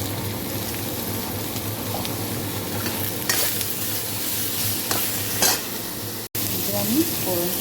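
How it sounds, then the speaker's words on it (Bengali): Onion, green chili and tomato stir-fry in hot oil in a pan for a soybean dish, a continuous close sizzle broken by a few spatula scrapes. "পেঁয়াজ, কাঁচা লঙ্কা, টমেটো দিয়ে দেবো, একসাথে কষিয়ে দিচ্ছি"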